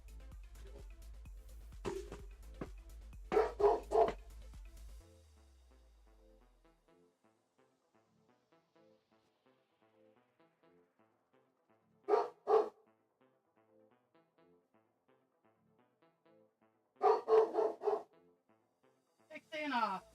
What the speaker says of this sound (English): being a big ferocious dog again